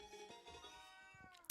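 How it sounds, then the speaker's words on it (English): A pet cat named Bowser meows in a drawn-out, wavering cry that lasts over a second, close and clear, ending with a sharp louder burst. "Can anybody else hear my cat?"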